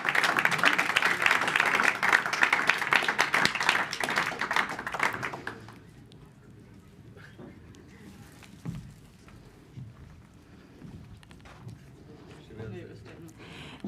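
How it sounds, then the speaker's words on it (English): An audience applauds the jury at a demo day event, dense clapping for about five seconds that then stops abruptly. Quieter room sounds and faint voices follow. "So again, applause for our jury and for the great job they did."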